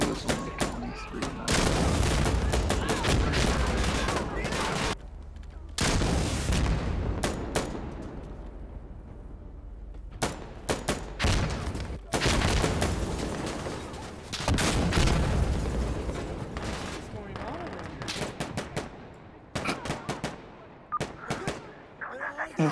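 Explosions and bursts of gunfire crash through a firefight in Insurgency Sandstorm, with loud booms, rattling automatic fire and short gaps between volleys.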